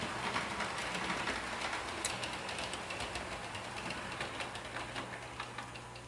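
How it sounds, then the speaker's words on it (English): A DCC model train engine in an automatic train-control stopping section rolls along steadily, with a continuous mechanical hum, faint rhythmic ticking and light rail clatter that gradually settle as it slows to a stop. "that engine will slow to a gradual stop."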